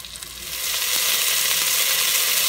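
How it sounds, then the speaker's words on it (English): Chicken pieces for chicken piccata fry in a pan, giving a loud, steady sizzle with a fine crackle that swells during the first half-second and then holds even. "So you fry these up until it builds a nice golden crust."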